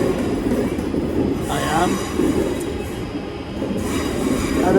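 A train at a West Midlands station on the Alvechurch line, rumbling loudly and steadily close by with a brief wheel squeal, and a short spoken phrase partway through.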